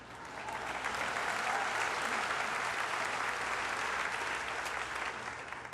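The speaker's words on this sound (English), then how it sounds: "This unnamed movement, you can clap for that." Sustained audience applause from a large crowd at a talk on a social movement, dense and steady clapping that fills the whole stretch, loud and close with no voices over it.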